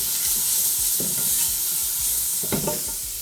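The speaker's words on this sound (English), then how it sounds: "onions, pimentos, celery, garlic, and let this saute for a little bit." Onions, pimentos, celery and garlic sauté in a pot for beef soup, a loud close sizzle broken by scraping spoon strokes and a few knocks against the pan.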